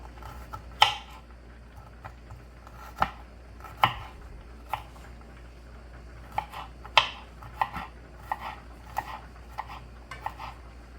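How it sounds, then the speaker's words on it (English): A knife minces garlic on a cutting board in a kitchen: quiet, irregular sharp taps spaced out over several seconds, close by with low background hum. "Now we are going to mince the garlic."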